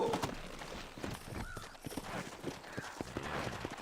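Horse hooves clip-clop in Red Dead Redemption, a quick, steady patter of hoofbeats on the ground at close range, with ambient outdoor game sound underneath and no voices.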